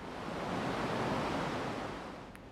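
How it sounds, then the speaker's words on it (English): Ocean waves wash steadily onto a shore at sunrise, a broad continuous surf roar that swells and slowly eases, with no voices. "Taking in the sights of the beautiful ocean waves."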